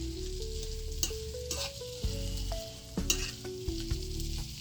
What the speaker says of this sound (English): Just to saute for a couple seconds in the oil, in the garlic oil